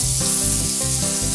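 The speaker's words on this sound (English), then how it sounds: "Hear that sizzle?" Meat sears in a hot pan with a loud, continuous close-up sizzle, a bright crackling hiss that stays steady throughout.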